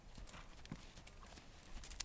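A horse's hooves clip-clop in a quick, even rhythm during a riding lesson, quiet and fairly close.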